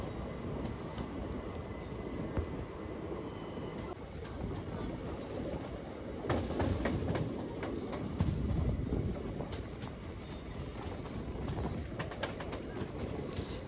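Tungabadhra Express passenger train, 17024 from Kurnool to Secunderabad, rumbling steadily along single track near Mahbubnagar, with continuous wheel and carriage noise swelling at moments and faint rail clatter throughout.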